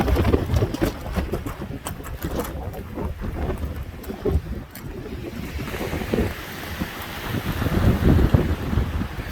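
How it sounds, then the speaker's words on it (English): Strong wind gusts of about 60 mph batter the microphone at an icy shoreline, a loud continuous roar with surging buffets and lapping water throughout, no voices. "It's gotta be 60-mile-an-hour wind gust here today."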